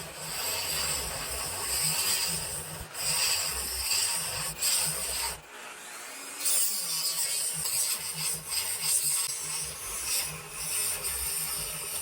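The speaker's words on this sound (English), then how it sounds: "We're slowly getting the bed cut out." Hand carving and rasping on a pinewood derby race truck body, cutting out the bed: steady scraping and rubbing strokes, close and fairly quiet, with a brief pause midway.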